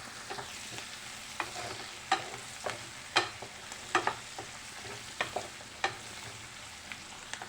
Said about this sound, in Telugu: ఉప్పు ఆనియన్స్ ఫ్రై అవ్వడానికి కలిపుకోవాలి కొంచెంసేపు